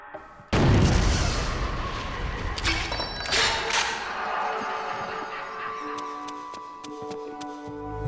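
Heavy explosions from dual grenade launchers in the action game Killer 7: a loud sudden blast followed by further booming detonations and rumbling debris, with faint clicks and tones trailing off.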